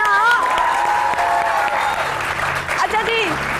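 Studio audience at a weekend TV show applauding, a dense wash of clapping beneath a voice talking over it for the whole stretch.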